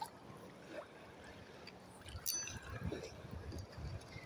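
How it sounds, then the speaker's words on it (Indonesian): Sea waves swelling larger as the tide rises during a fishing trip, a faint, steady wash of water with soft splashes and a few brief clinks, no voices. "Ombaknya udah mulai gede mas bro,"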